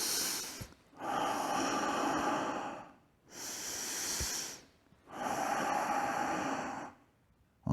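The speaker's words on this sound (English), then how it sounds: "I'm just doing it loud so you can actually know that I'm breathing" Three long, loud karate diaphragm breaths drawn in and pushed out close by, each a rushing hiss lasting a couple of seconds with short pauses between.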